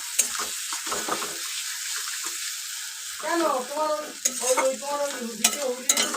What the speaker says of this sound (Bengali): দিয়ে খুব ভালোভাবে মাখিয়ে নেব জিনিসটাকে একদম সব মশলার সাথে